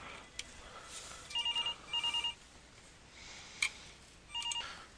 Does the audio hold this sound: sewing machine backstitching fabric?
no